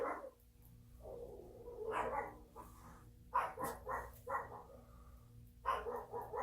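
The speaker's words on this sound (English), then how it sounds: "And the dogs are going bananas." Several dogs bark and yip indoors in a home, apparently at someone at the door, giving moderately distant, irregular bursts of excited barking over a quiet room.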